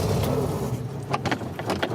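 An engine cranks and catches, a rumbling start followed by a few uneven clicks and bursts as it settles, close by with no talking.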